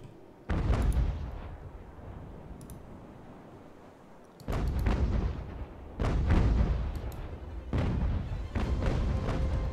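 Age-of-sail naval ship cannons fire in the video game Ultimate Admiral Age of Sail, several booming broadside volleys arriving in separate bursts with rolling echoes between them.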